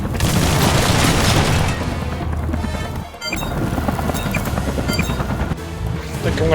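Battle din in the mech strategy game Front Mission 3 Remake, with a loud booming grenade blast amid dense rattling gunfire and crashes, sustained and close with a brief dip midway.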